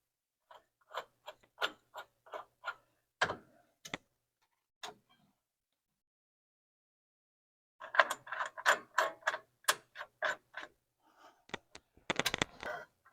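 A screwdriver adjusts the drum brakes on a 1948 Chevy, giving close, crisp ticking clicks in quick runs, with a silent pause before a denser burst of clicks and scrapes.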